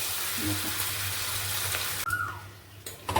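Fish roe curry sizzles in a pan for a couple of seconds with faint stirring, then the frying hiss abruptly drops away, leaving quieter clinks and rustles.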